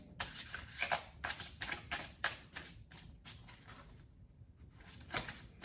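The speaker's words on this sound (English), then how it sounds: "All right, 2 more shuffles." Tarot cards are riffled and shuffled by hand in a string of quick papery bursts, soft and near, with a short pause before a final flurry and no talking over them.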